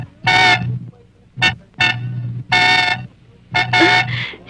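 A car horn honks five or six times in short and longer bursts, loud and close, with brief gaps between blasts.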